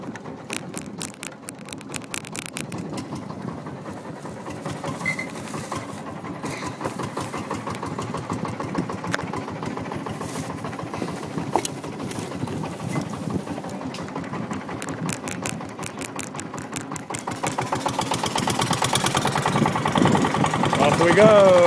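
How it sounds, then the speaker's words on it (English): A big Chinese tractor engine mounted on the back of a boat on Lake Inle, Myanmar, roaring with a loud, rattling drone that runs nonstop and swells toward the end, with voices talking over it. "The incredible racket going on behind us is the engine for this boat, big Chinese tractor engine, just mounted on the back of the boat."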